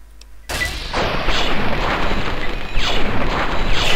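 Dense, continuous gunfire and booming blasts in the post-apocalyptic video game Fallout 3, loud and sustained after a brief quiet start, with overlapping shots and explosions throughout.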